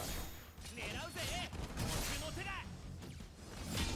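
Gunfire and combat effects in Crisis Core Final Fantasy VII Reunion on PS5, with rapid clustered shots, sharp swooshes and chirping impact tones that keep going throughout, while a voice speaks over the action.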